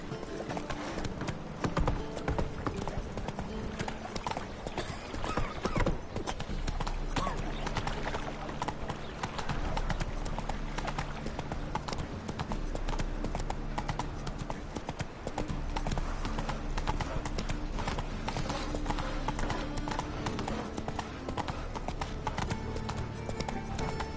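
Horse hooves clip-clopping steadily in a PS4 video game, a continuous rhythmic trot with brief voices over it.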